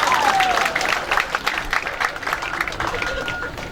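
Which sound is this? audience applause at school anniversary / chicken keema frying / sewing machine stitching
audience applause at school anniversary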